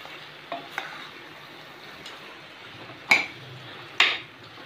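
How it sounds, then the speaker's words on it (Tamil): Quail (kaadai) gravy masala is stirred in a pan, a soft continuous scraping and sizzle broken by a few sharper clinks of the spoon against the metal, close up and with no one talking. "இப்போ இது நல்லா கலக்கி விட்டுருவோம்."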